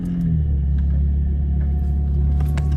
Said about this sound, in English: This is what my car sounds like though.